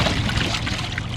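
Portable washing machine spinning with water inside, a close sloshing, trickling churn with a continuous low rumble, brief and steady.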